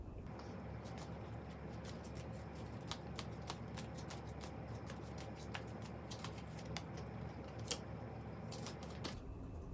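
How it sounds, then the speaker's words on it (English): Tarot cards from a romance deck are shuffled and pulled, a steady papery riffle with many sharp card snaps and flicks scattered throughout, close and fairly quiet, with no talking. "I'm just going to pull some more cards for you from my romance deck"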